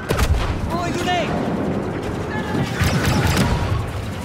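A grenade explodes in a Star Wars video game amid continuous loud battle noise of blasts and gunfire, with voices briefly heard in the mix.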